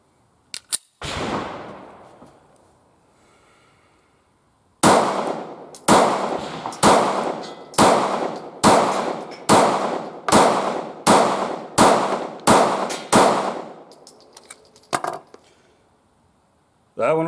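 A Taurus GX4 pistol fires Remington Range 115-grain ammunition at a range. One shot comes first, then after a pause a rapid string of about a dozen loud, sharp reports spaced roughly half a second apart, with faint metallic clinks between them.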